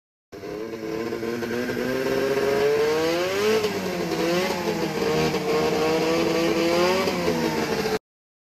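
A Ski-Doo MXZ snowmobile with its two-stroke engine bored out to 550, heard up close as a loud, continuous, buzzing engine note that revs up and falls back several times.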